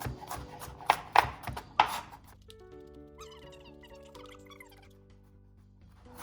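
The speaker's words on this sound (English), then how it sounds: "just give it a nice chop" A knife chops vegetables on a cutting board in a few quick, sharp strikes, then soft rustling and faint background hum follow.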